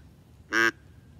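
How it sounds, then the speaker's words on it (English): A single deep quack blown on a duck call, short, loud and reedy, sounding like a real duck, in an otherwise quiet setting. "This was a perfect quack call."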